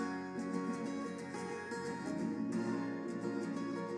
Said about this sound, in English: But the reverb of these two guitars sounds like this.